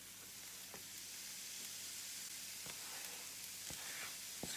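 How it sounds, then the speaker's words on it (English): Courgette sizzling in a frying pan with onion and garlic, a quiet steady hiss with occasional soft clicks and scrapes from stirring, and no talking. "And I'm going to tip all of that courgette in."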